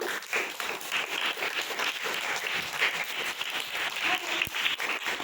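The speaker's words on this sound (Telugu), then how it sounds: "వారందరూ గట్టిగా ఒకసారి క్లాప్స్ కొడదామా?" An audience at a Children's Day event claps for children after a fashion dress competition, sustaining a dense, even round of applause for about five seconds with no talking over it.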